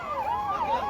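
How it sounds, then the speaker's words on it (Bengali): An ambulance siren at a train accident site, a wailing tone rising and falling in steady sweeps, moderately distant and without talk. "শুধু সাইরেন, অ্যাম্বুলেন্সের সাইরেন বাজছে এলাকায়"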